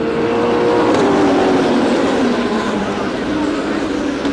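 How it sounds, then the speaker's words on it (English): Race cars, including an Escort, roar off the start at Brands Hatch, a dense, loud, sustained engine blare from a pack of cars passing close, with a commentator talking over it. "Incredible noise as they head into paddock"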